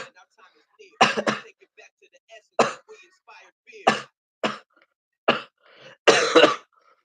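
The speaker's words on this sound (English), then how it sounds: "that's like 900 coughs right there" Repeated coughing and throat clearing in bursts, roughly seven harsh explosive coughs spaced across several seconds, fairly close and loud, with quiet gaps between, during a pregame show for the Raiders versus Broncos Monday night game in Oakland.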